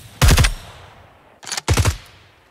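Gunfire in the tactical shooter Ground Branch: a loud, close burst of rapid shots, a pause, then two more quick bursts in succession, with no talking.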